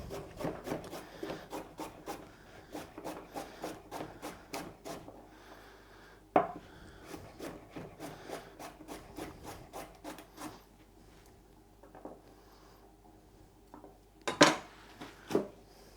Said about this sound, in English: some carrots for the stir fry. So these also I'm going to cut into little slices